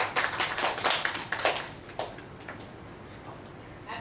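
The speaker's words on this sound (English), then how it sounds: "Let's give them a round of applause." Scattered hand clapping from a small audience at a study-abroad training session, strongest at first and thinning out within a couple of seconds into faint, sparse claps.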